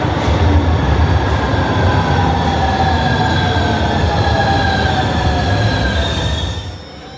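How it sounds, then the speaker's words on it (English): Metro train in a deep underground station in Genoa, a loud close rumble with squealing wheel tones and rattling carriages rolling steadily past, then fading toward the end. "This is actually a really deep metro line"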